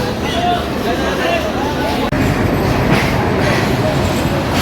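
Crowded Jayantika Express, the 717 intercity train from Dhaka bound for Sylhet, pulls out of Dhaka Airport railway station: a loud, continuous rumble and rattle of carriages and wheels, with people talking over it.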